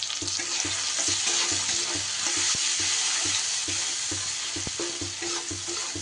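Tomatoes with Kashmiri chili powder and turmeric fry in a pan with a loud, steady close sizzle, punctuated by rhythmic stirring scrapes and an occasional sharp tap of the spatula.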